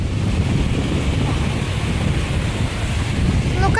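Sea surf and gusting wind at a cartoon seaside bay, a steady broad rushing wash with low rumble throughout, close and fairly loud, ending with a brief bright chiming tone.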